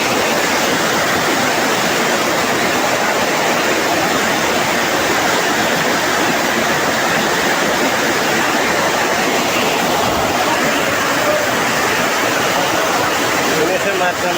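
Floodwater from a Jakarta flood gushes up like a fountain near a parking area, a loud, unbroken roaring rush of water throughout.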